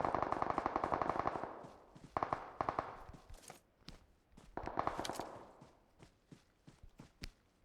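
In PUBG Mobile, rapid bursts of automatic gunfire from a nearby fight crackle in several rattling volleys, mixed with footsteps, with no speech.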